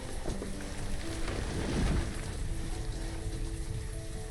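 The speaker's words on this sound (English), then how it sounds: "And now it's raining." Rain and thunder in the village-building game Banished, a steady hiss of falling rain with a low rumble of thunder swelling midway, moderately quiet and without speech.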